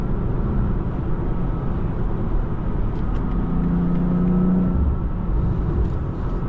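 A 2023 BMW X4 M engine pulls steadily under acceleration while driving, a continuous low drone with a rising tone mid-clip, heard from inside the cabin without talk.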